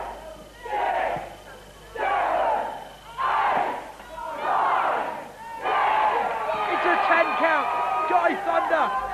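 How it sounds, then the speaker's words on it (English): A large professional wrestling crowd shouts in loud rhythmic bursts, chanting the referee's count together, swelling into sustained cheering and yelling toward the end. "The crowd counting. They're up to 4."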